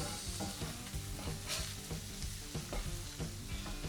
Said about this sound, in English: Okay, now it's time to flip the Big Macs.